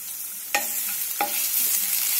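Garlic paste with finely chopped green chili and ginger fries in hot oil for Manchow soup, giving a continuous loud sizzle broken by two sharp stirring scrapes.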